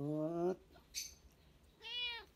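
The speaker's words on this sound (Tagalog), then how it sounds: "Ang paborito kong pusa." A pet cat meows twice at close range, a drawn-out cry followed by a shorter rising one, with a brief voiced sound between them in a quiet home setting.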